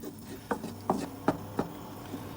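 Spatula stirring sauce through fried rice in a hot pan, giving a few soft scraping and tapping strokes at an irregular pace over a steady sizzle.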